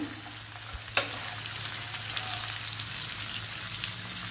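Ivy gourd fry with onion, green chilli and salt sizzles steadily in a pan, a single sharp knock from the spoon near the start, then a continuous soft crackle with light stirring scrapes throughout.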